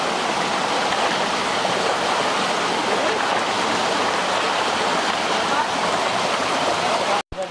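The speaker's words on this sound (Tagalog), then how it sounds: "Lakas ng agos." Strong current rushing through a hidden provincial river, a loud, steady, close roar of churning water that holds without pause, then cuts off abruptly near the end.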